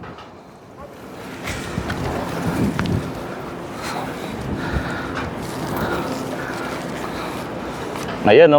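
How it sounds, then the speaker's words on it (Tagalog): Sandstorm wind in Saudi Arabia heard from a rooftop, a strong roaring gust blowing steadily across the microphone with someone speaking briefly over it. "Grabe ngayon ang sunstorm dito sa Saudi."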